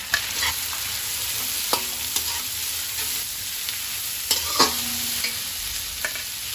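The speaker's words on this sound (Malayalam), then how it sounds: "നമുക്ക് ഉള്ളിയൊക്കെ വഴറ്റിയെടുക്കാനുണ്ട്. അതിനായിട്ട് ഈ ഓയിൽ തന്നെ ഞാൻ ഇതിലോട്ട് ഒഴിച്ചു കൊടുക്കുക." Half a kilo of sliced onions sauté in oil in a pan for prawns veg rice, giving a steady close sizzle broken by a few sharp scrapes and taps of a stirring spoon.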